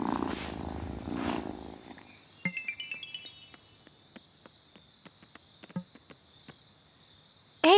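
A cat purrs in the video game Wylde Flowers: a soft, close purr at first, then fading into quiet ambience dotted with light ticks and small clicks, with no talking.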